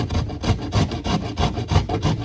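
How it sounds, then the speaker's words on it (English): Microplane carving a wooden guitar neck: a rhythmic series of close, coarse rasping strokes, about eight quick back-and-forth scrapes in steady succession. "I believe this is called a microplane."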